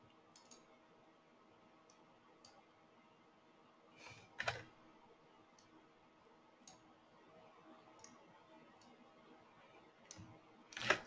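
Heavy, thumping keystrokes on a computer keyboard, sparse single clicks through the span with louder clustered bursts near the middle and at the very end, close and fairly quiet, with no talk.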